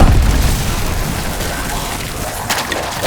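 Explosions in a cooperative four-player survival game round, a heavy booming blast at the start followed by rumbling debris and crackling bursts, with further pops near the end.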